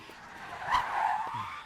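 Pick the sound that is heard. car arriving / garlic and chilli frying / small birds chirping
car arriving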